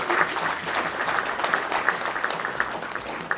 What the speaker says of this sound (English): I think they deserve a big clap.